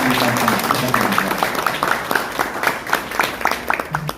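Audience applause at a ceremony signing an investment memorandum with Hyundai Mobis for a regional logistics center, a dense, steady clatter of many hands that fills the room, with a voice speaking over the start.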